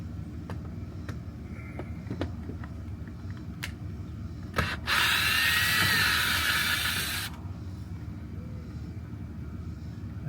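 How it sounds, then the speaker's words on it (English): A power drill whirs for about two seconds as it backs screws out of an RV slide room, near and fairly loud, with scattered clicks and handling knocks before and after. "Expose the screws, so taking all these out."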